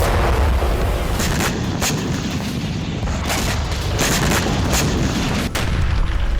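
Explosions from a swarm drone attack in the Russia-Ukraine war, a dense rumbling barrage of booms and sharp blasts, loud and continuous with repeated impacts.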